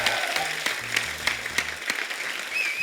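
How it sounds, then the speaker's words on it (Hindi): Studio audience on a Hindi TV comedy show breaking into dense, steady applause, a continuous wash of clapping lasting a few seconds with no talk over it. "जोरदार ताली हो जाए, मस्त प्रोमो आएगी।"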